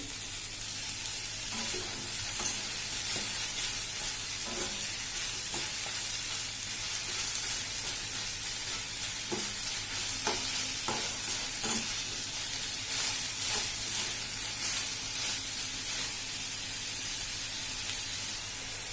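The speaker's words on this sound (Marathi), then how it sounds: "इथे बघा गॅसवरती कढई गरम करायला ठेवलेली लोखंडाची आपण आता पहिले कांदा भाजून घेऊ" Sliced onions dry roasting in a hot iron kadhai over a gas flame with no oil, giving a steady soft hiss with faint scraping stirs throughout, no talking.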